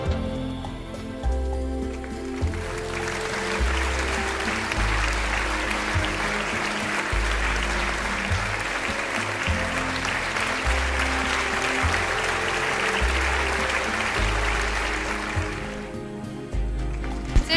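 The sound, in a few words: audience applause at award ceremony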